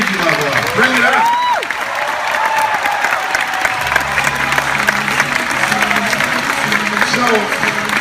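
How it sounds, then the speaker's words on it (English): Seminar attendees at a motivational speaking event applaud themselves, a loud, continuous wash of clapping with voices calling out and a speaker's voice rising over the crowd. "Give yourselves a round of applause."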